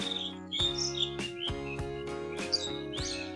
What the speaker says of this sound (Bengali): আর এখানে পাখির সব কিচিরমিচির শব্দ শোনা যাচ্ছে।